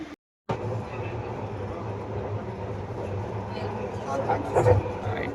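Steady rumble of a Hyderabad Metro train heard from inside while riding, a continuous low drone with a brief dropout near the start and a slight swell toward the end. Voices talk faintly beneath it.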